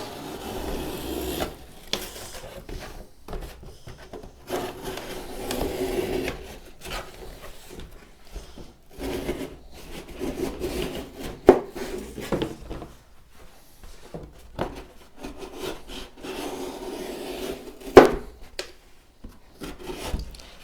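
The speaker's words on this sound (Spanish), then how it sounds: "Vamos a empezar a hacer cortes en el cartón." Cheap handmade knife slicing through a cardboard box: steady close rasping and scraping, with uneven strokes and occasional louder knocks, and no talking.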